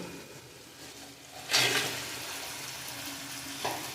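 Crabs drop into a pan of sizzling spiced masala, setting off a sudden loud burst of frying that settles into a steady crackle, with a small clatter of stirring near the end.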